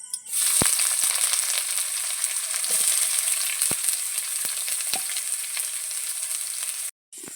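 Chopped onion frying in a pan for a plantain-flower (mocha) chop, a steady close sizzle with occasional stirring clicks, cutting off briefly near the end.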